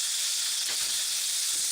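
A pork cutlet pan-fries in hot oil, giving a loud, steady hiss and sizzle that runs unbroken throughout, close up.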